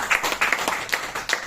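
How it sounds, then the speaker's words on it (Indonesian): A small audience claps at a motivational seminar, with distinct, uneven hand claps that are fairly close and loud, running for under two seconds with no talking. "kita tepuk tangan dulu untuk kita semua"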